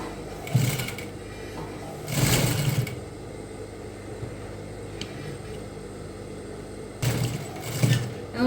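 A sewing machine stitches a corset dress with bra cups and boning in three short whirring bursts, separated by quiet pauses, fairly close and with no talk.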